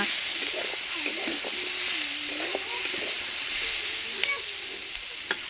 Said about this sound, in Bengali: এতে ভালো করে ভাজা হয়ে যাবে